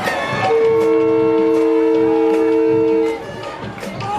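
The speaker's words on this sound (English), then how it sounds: "Here's a train whistle here." A train whistle blows one long sustained tone, loud over crowd noise at an outdoor football game, then cuts off as the stadium murmur carries on.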